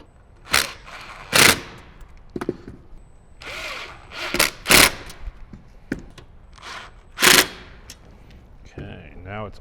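A power driver tightens a 7mm bolt while a Kicker marine amp rack is mounted in a 2007–2018 Jeep Wrangler JK, giving several short sharp bursts with quieter clicks and handling noises in between.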